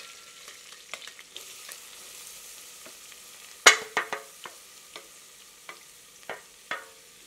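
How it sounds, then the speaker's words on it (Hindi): Finely chopped onions frying in hot spiced oil for Kerala-style Malabar chicken, a low steady sizzle with a sharp clatter as they drop in, then scattered spoon scrapes, close with no talk. "तत्पश्चात बारीक कटी प्याज सम्मिलित करते हैं।"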